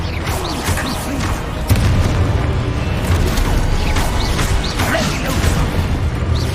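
Spell combat in Hogwarts Legacy with a Confringo fire blast, a dense loud wash of booms, crashes and creaking mechanical clatter layered together without a break, with a heavier impact partway through.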